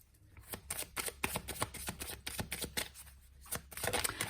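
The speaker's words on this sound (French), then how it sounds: "Allez, je vais tirer quelques petites cartes avec l'oracle G." Oracle cards being shuffled by hand: a quick series of crisp riffling and slapping bursts, close and fairly quiet, with short pauses between, and no talking.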